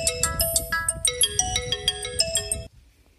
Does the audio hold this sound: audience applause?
no